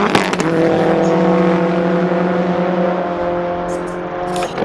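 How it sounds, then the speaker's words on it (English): Race car engine droning steadily on track at Road Atlanta during a time attack session, a loud sustained tone with slight pitch drift, and other cars faint in the background. "We have 6 cars on track right now laying down some flyers."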